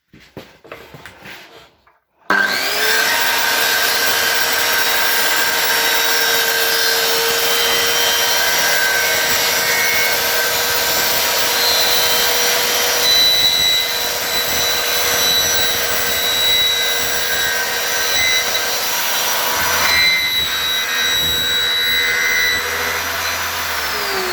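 An Einhell plunge saw runs continuously along a guide rail, a loud, steady motor whine with cutting noise lasting over twenty seconds after a brief quieter start, with a slight shift in tone near the end.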